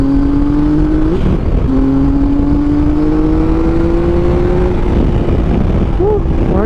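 A Triumph Tiger 800 three-cylinder adventure bike fitted with a Yoshimura exhaust pulls hard in fourth gear, its loud, close engine note climbing steadily in pitch with brief dips at the gear changes.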